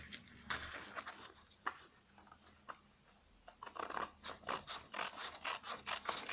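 Scissors cutting through paper while trimming a notepad decoration, a run of short snipping and rasping strokes, sparse at first and then coming quickly in a steady rhythm, close and fairly quiet.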